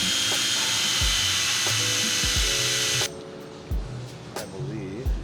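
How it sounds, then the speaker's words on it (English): A power drill whines at high pitch for about three seconds, then stops, followed by a few clanks and scattered workshop knocks nearby. "I'm gonna drill some holes."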